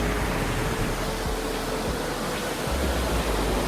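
Steady, broadband roar of beach ambience at sunset, with waves washing continuously and evenly throughout, no distinct individual breakers and no voices.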